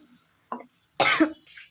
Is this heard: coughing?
yes